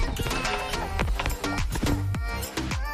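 A monster horse in a Minecraft-based video game neighs and snorts amid rapid clattering hoof beats and thumps, loud and close, with a harsh, distorted edge.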